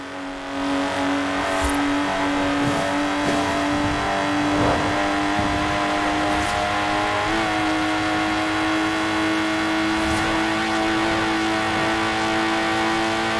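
A Lotus Exige engine in Forza Horizon 4, a steady loud buzzing drone held at high revs throughout, with slight pitch shifts and faint clicks, no talk.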